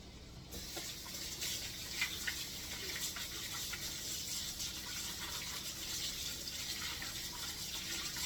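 Tap water runs steadily while raw meat is rinsed for Easter bacon and cabbage, a continuous broadband splashing rush that holds level throughout with no talk.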